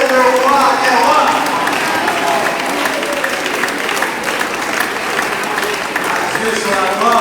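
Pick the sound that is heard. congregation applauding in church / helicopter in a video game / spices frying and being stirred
congregation applauding in church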